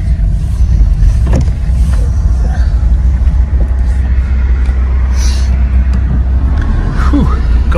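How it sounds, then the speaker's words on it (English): A speeding car passes close beside a riverbank where someone is trout fishing on the River Tas, its engine rumbling loudly and steadily throughout, with faint voices at times. "Not very often a speeding car come flying up behind you when you're fishing"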